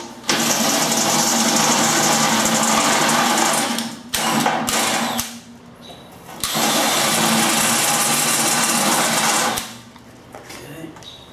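A power drill bores holes in a metal backing plate, enlarging them to half an inch. Two loud sustained bursts of whirring are separated by brief pauses and quieter clicks.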